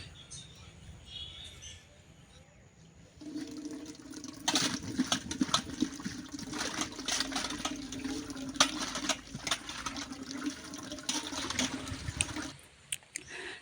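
Water from a pipe runs into containers at a farm, a steady splashing pour that starts a few seconds in and continues with clattering and knocks before cutting off near the end.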